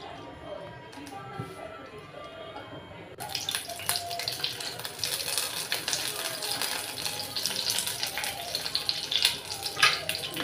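Green chillies drop into hot oil in a pan; after a quiet start, a sudden loud, hissing crackle of frying takes over and continues steadily.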